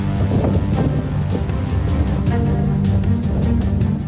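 Strong storm winds of Cyclone Biparjoy roar continuously across the Gujarat coast, with heavy gusting noise buffeting the microphone and no voices heard.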